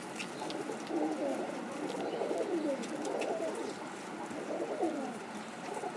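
Several tippler pigeons coo in soft, overlapping rolling calls, close by and continuous, with no talking.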